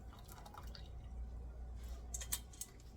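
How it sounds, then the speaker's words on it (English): Syrup pours into a heat-proof measuring cup, faint liquid trickles and drips with a few brighter splashy drops toward the end, soft and close against a low background hum. "Now I'm going to pour the syrup carefully into"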